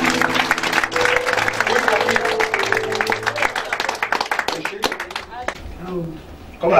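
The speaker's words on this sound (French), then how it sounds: "Est-ce qu'on peut acclamer le Seigneur?" A church congregation applauds and acclaims the Lord with a thick burst of clapping and crowd noise, mixed with sustained musical tones, then thins out toward the end.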